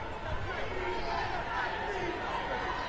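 A large crowd of marchers at the People's March in Washington, DC, a steady close wash of chatter and shuffling with overlapping voices throughout.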